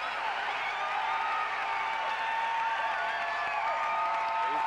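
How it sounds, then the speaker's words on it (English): A home crowd at a 1997 NC State basketball game roars after a three-pointer, a dense, sustained wall of cheering and shouting that stays loud and steady throughout. "and the crowd goes nuts"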